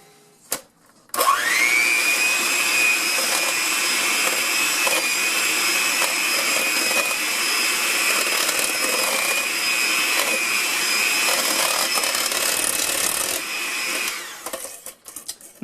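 A Two-Speed Osterizer blender whirls a batch of ingredients with brown sugar, kicking on abruptly and holding a loud, steady motor whine for over twelve seconds before winding down, with no talking.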